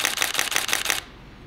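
A Nikon D750 DSLR shutter fires in continuous high mode, a rapid loud burst of about six evenly spaced clacks lasting one second, then stopping.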